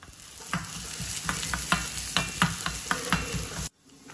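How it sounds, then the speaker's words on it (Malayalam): Chopped onions fry in ghee for a Ramadan dish, sizzling close and steady while a spoon gives repeated rhythmic stirring clacks. The sound cuts off sharply near the end, leaving quiet. "അതിലോട്ട് നമുക്ക് അരിഞ്ഞു വെച്ചിരിക്കുന്ന ഉള്ളി ഇട്ട് കൊടുക്കണം."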